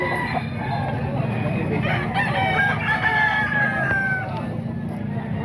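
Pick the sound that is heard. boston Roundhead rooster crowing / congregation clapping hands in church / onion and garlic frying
boston Roundhead rooster crowing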